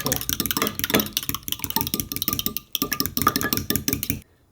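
Eggs with a pinch of salt are beaten in a bowl for Korean leek and beef skewers, daepa sanjeok: a fast, steady run of clicking and tapping against the bowl that pauses briefly midway and then stops.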